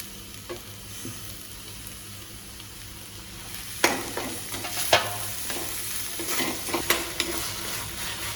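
Onion and tomato sauté in a pan for Marathwada-style sukka chicken, a steady soft sizzle broken by sharp spatula scrapes and clinks that grow busier from the middle onward, close and unaccompanied by voices.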